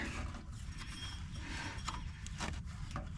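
Line wrench working on a van's brake line, producing close, quiet mechanical ratcheting and metal clicks over a steady low background rumble, with a few sharper taps.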